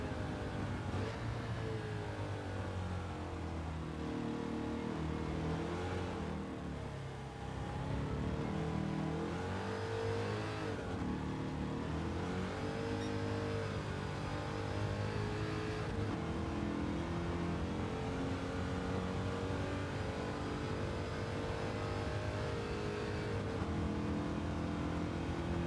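A Corvette C2 race car on the Le Mans circuit in Gran Turismo 7, its engine droning loudly and continuously with rising and falling revs through gear changes and corners, with no one talking.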